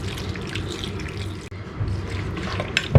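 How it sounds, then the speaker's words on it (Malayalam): Half a glass of water splashes into raw mutton seasoned with salt and turmeric for a pepper fry, a brief, close, gurgling pour lasting a few seconds. "1/2 ഗ്ലാസ് വെള്ളം ഒഴിച്ചു കൊടുക്കുന്നുണ്ട്."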